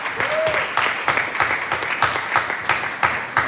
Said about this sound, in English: An applause for this guy.